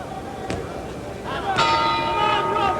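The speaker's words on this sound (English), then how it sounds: "There's the bell." A boxing round bell rings at a heavyweight fight, sounding a couple of clear metallic strikes that keep ringing over steady crowd noise and commentary.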